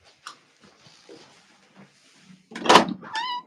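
Someone banging on a house door, a loud burst of knocking heard from indoors after a quiet stretch with faint room sounds.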